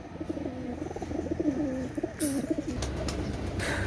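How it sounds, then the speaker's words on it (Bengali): Lal dum pigeons cooing nearby, a run of soft throaty rolling coos followed by a few clicks and rustles. "লালদম কবুতর দেখেন"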